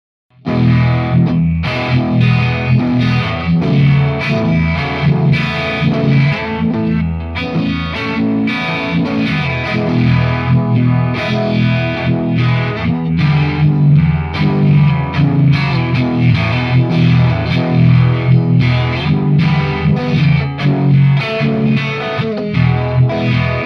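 An overdriven electric guitar through a Fender Tone Master Pro amp modeler preset plays continuously with a thick, chorused, effected tone, a steady wall of distorted chords and notes with no voices.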